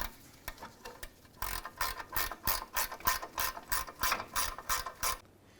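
A ratchet snugging up bolts on a 2004-2009 Dodge Durango, with a few slow clicks followed by a steady run of about a dozen rhythmic ratcheting strokes, close and crisp, with no speech.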